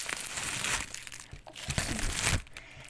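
A parcel being opened: plastic packaging crinkles and crackles close by in dense, uneven bursts for a few seconds, then drops off near the end.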